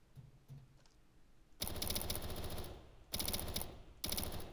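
Submachine gun fire in the video game Sector's Edge: after quiet faint noises, two long sustained automatic bursts and a short final burst ring out loud and close.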